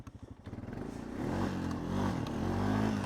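A Honda Foreman 450es ATV with a shifting fault and suspected engine trouble idles nearby with a rhythmic putter, then the engine note rises and holds a steady, louder running drone.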